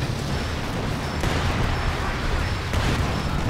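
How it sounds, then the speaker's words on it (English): Mortar shells in the World War II strategy game Company of Heroes 2 land as dull explosive bursts, two distinct impacts over a continuous roar of battlefield rumble. "Mortar lang naman yan."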